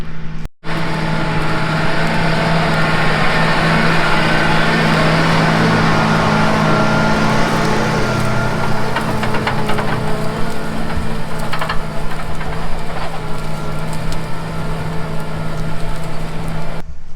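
A farm tractor working a field in spring, a loud, steady low engine drone with a constant hum that runs throughout, occasional rattles and clanks over it.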